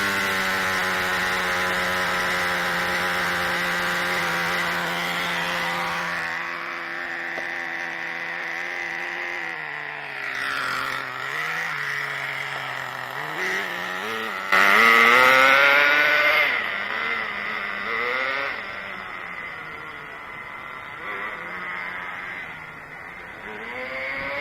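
A Redcat Caldera RC car's nitro engine runs with a high, buzzing drone that rises and falls as the throttle is blipped, with one sharper rev burst midway, close and with no talking.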